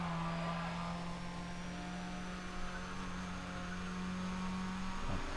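A Nissan 350Z racing engine in Need for Speed ProStreet drones at a steady high pitch, with a faint whine rising slowly over it and a brief shift in tone near the end.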